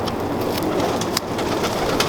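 Pigeons at a pigeon tower coo steadily and close by, with no talk.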